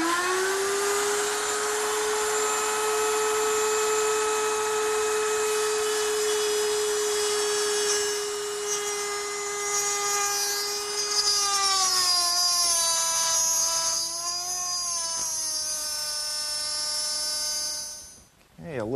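A router with a small bit cuts wood for a bedside table in passes, a loud steady whine that dips in pitch under load near the end, then stops abruptly.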